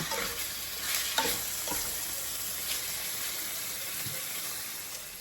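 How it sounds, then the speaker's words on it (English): Continuous sizzling of food frying in a pan, with occasional scrapes and taps of a utensil stirring it. "I'm just going to let them cook, stirring them occasionally"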